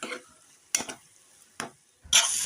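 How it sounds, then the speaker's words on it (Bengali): Cow brain curry frying in a pan and being stirred, short scraping strokes breaking over a sizzle, close up, with a louder burst of stirring at the end. "খুব সুন্দরভাবে এটাকে নাড়াচাড়া করে বেশ কিছুক্ষণ রান্না করে নেব"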